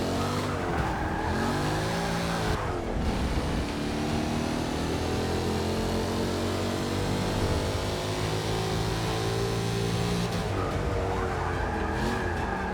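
A car engine held in first gear in Forza Motorsport 6, a loud sustained revving drone with rising and falling pitch sweeps and a brief dip, tires squealing along, continuous with no speech.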